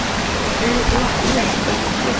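A waterfall roars as a steady, loud broadband wash of falling water, close by and constant, with faint voices of people talking nearby mixed under it.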